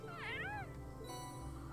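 A cat meows in the video game Trails of Cold Steel, a single rising-and-falling cry close up, followed by a brief shorter mew over steady game background sound.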